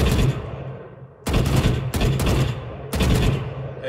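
Vandal rifle fire in Valorant: three loud bursts of rapid automatic shots, each cutting off sharply, with a brief quiet gap after the first burst and shorter pauses between the later ones.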